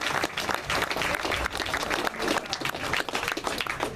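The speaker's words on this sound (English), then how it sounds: "So please give Tom a round of applause." Political rally crowd applauding, a dense continuous wash of clapping from many hands at moderate distance, steady for several seconds.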